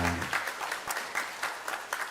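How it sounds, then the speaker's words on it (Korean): A church congregation claps together during a Sunday service, a warm burst of applause with a brief voice at the very start. "우리 뜨겁게 한번 박수 한번 드리겠습니다"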